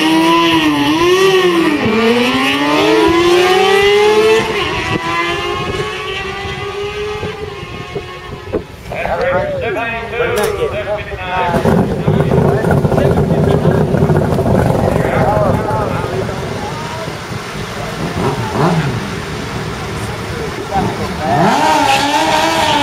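Drag racing motorcycles on a strip, engines revving and screaming as they accelerate, loud and close, with rising then falling pitch as bikes pass, and an announcer talking over the noise.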